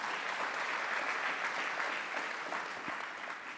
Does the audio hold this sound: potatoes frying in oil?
no